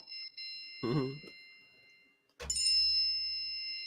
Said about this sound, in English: is that an iPhone? That is in fact my phone.